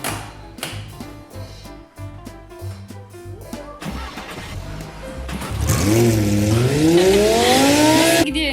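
A child's ride-on toy car gives off a revving engine sound: a string of clicks, then a loud, steady rev whose pitch swoops up and down, with no voices over it.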